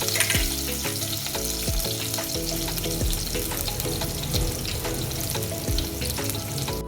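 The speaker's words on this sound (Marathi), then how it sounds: "या मिरच्या आपल्याला तेलामध्ये व्यवस्थित फ्राय करून घ्यायच्या आहे." Green chillies frying in hot oil with steady, dense sizzling and crackling, punctuated by scraping stirs from a spoon, close and without speech.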